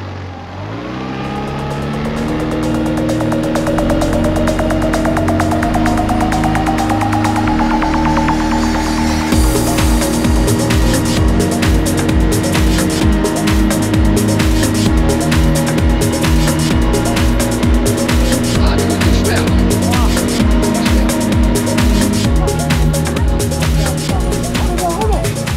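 A 20 hp outboard motor on an inflatable RIB carrying five people, loud and close, its pitch climbing steadily as it accelerates, then holding a high, buzzing roar with a rhythmic pulsing beat.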